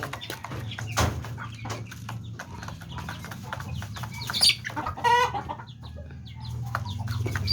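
Backyard chickens cluck close by at feeding time, with short repeated clucks and a few sharper squawks over a low rumbling background and scattered scratching and pecking noises.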